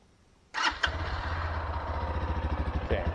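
Lifan KPM200 motorcycle engine cranks and fires up, then settles into a steady, loud, close idle with a rhythmic thumping pulse that swells briefly near the end.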